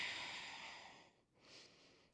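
Steady breathing held during a downward dog pose in a vinyasa yoga session, a long airy exhale followed by a brief pause and a softer inhale, close and quiet with no talking.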